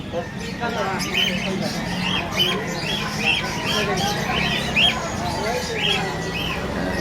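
Caged birds inside the Bocaue pet market squawk and chirp in short, repeated bursts over a constant crowd murmur, with the calls sounding near and moderately loud.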